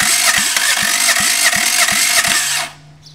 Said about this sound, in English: this causes the engine to crank